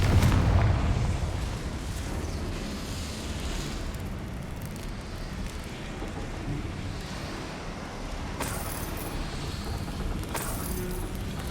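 Bombarda and Confringo explosion spells in Hogwarts Legacy, heard as a heavy low boom at the start that settles into a sustained rumbling, windy roar, with brighter crackling bursts late on.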